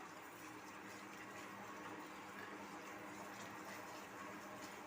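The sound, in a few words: sugar syrup boiling in pan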